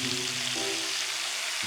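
A thick hamburger patty sizzles steadily in a pan with garlic, the lid just lifted after six minutes on the first side; a continuous close hiss with a faint hum beneath and no voices.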